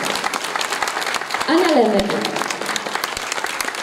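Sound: audience applause at a carol concert

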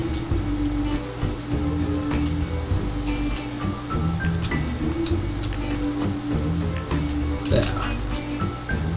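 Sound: train running in the video game Mashinky

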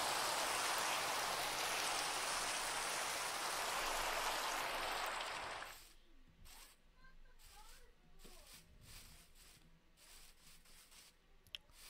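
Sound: rain falling in Minecraft video game

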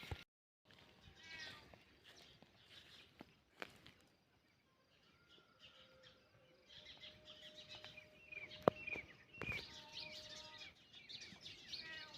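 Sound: cat meowing

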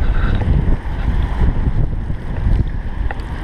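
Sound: wind blowing

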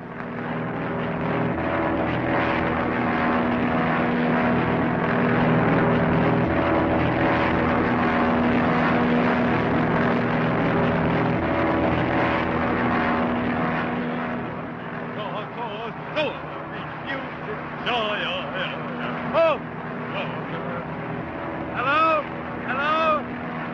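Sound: airplane flying past, roaring engine and propeller

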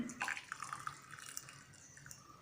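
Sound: pouring tea into a glass

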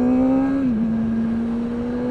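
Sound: motorcycle engine revving

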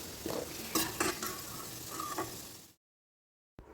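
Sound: potatoes frying in oil in a kadai

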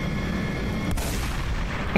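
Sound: golden Desert Eagle gunshot sound effect in Ravenfield video game

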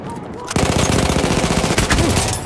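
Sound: machine gun fire from the video game Battlefield 1

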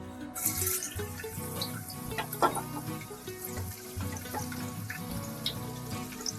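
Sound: garlic added to hot oil in a pan

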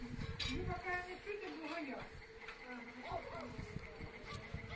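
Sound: midges buzzing

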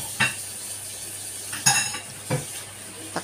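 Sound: tofu being added to a pan and cooking

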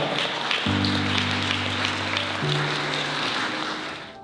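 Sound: wedding guests applauding

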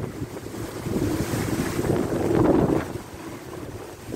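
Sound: strong wind

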